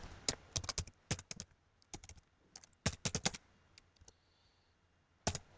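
Keys tapped on a computer keyboard while entering text with a text tool, in quick irregular bursts of clicks separated by short pauses, close and fairly quiet, with no talking.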